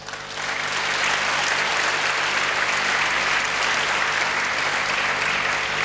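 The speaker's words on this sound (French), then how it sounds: "je voudrais que nous applaudissions la FAO qui a pris le lead de cette session" Sustained applause from a conference audience honoring the FAO, a dense even clapping that swells quickly and holds loud for several seconds.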